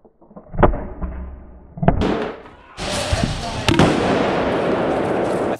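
Airsoft explosion round going off: sharp bangs and crackling bursts, a loud blast followed by a sustained, noisy rushing burst with scattered pops, close and loud.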